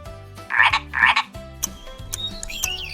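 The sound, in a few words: frog croaking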